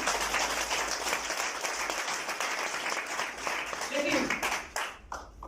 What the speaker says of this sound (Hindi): मेरी टीम के लिए जोरदार तालियां।